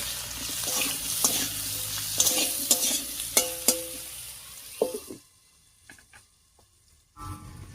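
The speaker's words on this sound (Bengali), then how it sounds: "আলুটা এইভাবে ঢাকা দিয়ে কিছুক্ষণ রান্না করলে একটু ভাজা ভাজাও হয়ে যাবে" Potatoes seasoned with salt and turmeric frying in a pan, with a bright sizzle and several sharp scraping stir strokes, then a near-silent pause before the sizzle returns briefly.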